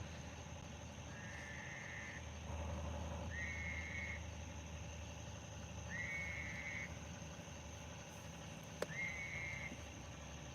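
A frog near a boat dock at night repeats a thin, rising, whistle-like scream four times at a slow irregular pace over a low background hum, with no talking.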